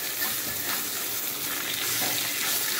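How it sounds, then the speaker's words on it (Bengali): Pabda fish frying in a small amount of oil, a steady close sizzle with faint crackle running evenly throughout and no talking. "এই যে পাবদা মাছ ভাজা"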